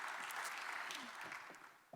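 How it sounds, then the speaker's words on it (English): Audience applause at a robotics forum opening as panelists come on stage, a faint, thin patter of clapping heard from a distance over a roomy background. "give a bit of applause"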